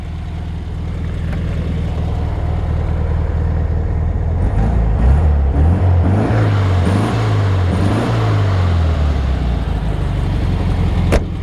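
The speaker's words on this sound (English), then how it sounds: "you can hear the engine runs awesome" A 1963 Volkswagen Beetle's small engine idles and revs steadily up close, its pitch rising and falling a few times in the middle, with no talking.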